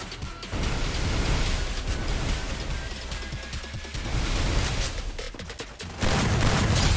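Loud, sustained gunfire in the Survivors Guild video game: a dense barrage of rapid shots and blasts with almost no pause, continuing steadily throughout.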